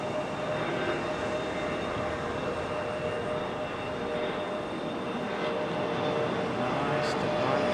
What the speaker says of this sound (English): Nice departure for the CRJ.